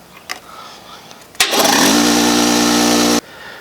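A Sears Craftsman air compressor with a leaky regulator starts abruptly after a click and runs loud and steady for under two seconds, its motor pitch rising as it spins up, then cuts off sharply.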